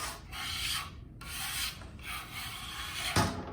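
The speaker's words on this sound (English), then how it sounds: "now I'm just gonna give it a good cleaning scrape" A tool scrapes wax clean off a cottle in a lost-wax casting setup: three long, close, rasping strokes with short pauses between them and a sharp knock near the end.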